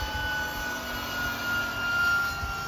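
A five-bladed RC NOTAR helicopter's impeller spins at about 16,000 RPM, giving a steady, high-pitched turbine-like whine with a faint airy rush underneath, continuous and fairly close, with no voices.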